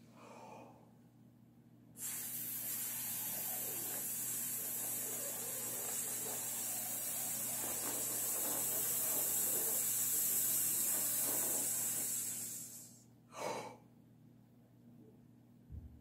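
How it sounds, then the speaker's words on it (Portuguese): Slow, steady breath released with breath support for flute practice, a long sustained airy hiss lasting about ten seconds, then a short quick inhalation near the end, heard close and alone. "A gente inspira, eu vou soltar o ar devagar, usando o apoio, e depois eu vou inspirar de novo, rapidamente."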